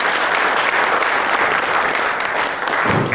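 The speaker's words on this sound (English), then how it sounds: "A round of applause for our chief guest, Ma'am Meenakshi Lekhi, please." A large audience at an awards ceremony on financial inclusion gives loud, dense, sustained applause for the chief guest, a Member of Parliament, easing slightly near the end.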